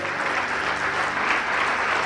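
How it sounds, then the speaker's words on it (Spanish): Congregation applause at a church service, a dense, even wash of many hands clapping without pause. "¿Cuántos le dan un aplauso al que vive y al que reina?"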